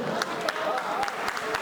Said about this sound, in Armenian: մի հատ ծափարենք, որ իմանանք դուք էստեղ եք թե չէ